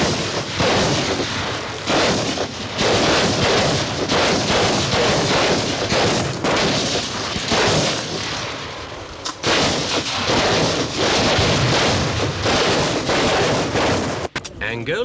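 Live-ammunition gunfire at a military training ground in Angola during the civil war: loud, dense volleys of shots and heavy blasts crackle almost continuously, close and harsh, with a sharp burst near the end.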